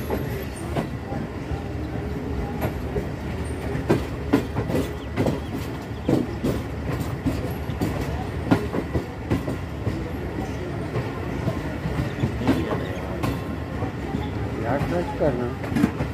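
A train pulls out of Jhelum railway station in Pakistan, its wheels clicking rhythmically over rail joints with steady rolling rumble and occasional squeals, while someone talks over it.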